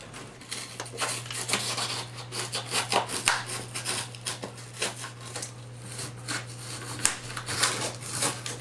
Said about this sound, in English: Now we trim away the excess foam from around the ductwork using a razor blade.